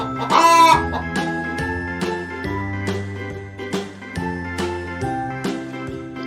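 Bright, jingly children's music with chiming notes plays while a hen clucks briefly near the start, a cartoon-style farmyard effect in an alphabet lesson for kids.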